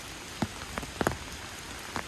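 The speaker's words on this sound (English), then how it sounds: "Nice gloomy day today, but we did need the rain" Rain falling on a gloomy day: a soft, constant hiss of rainfall with a few distinct drops tapping nearby, fairly faint, with no voices.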